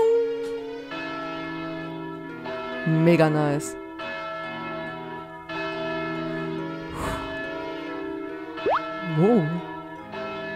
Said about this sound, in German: Woher kommt denn dieser Glockenklang?